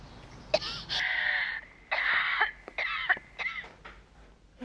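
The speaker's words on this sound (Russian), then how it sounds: "Мам, ты кашляешь?" A woman coughs and clears her throat several times in a short row of rasping, breathy bursts close to the listener, with brief pauses between them.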